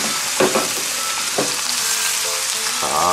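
Saga beef steak sizzling in olive oil in a hot frying pan, a steady loud hiss with brief crackles and the scrape of handling near the end.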